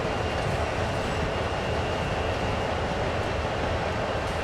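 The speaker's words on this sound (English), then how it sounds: "Really long AI train to the right of us." Long AI-driven freight train rolling past in Train Sim World on a CSX heavy-haul route, a steady broadband rumble and hiss of wagons that stays even and moderately loud throughout.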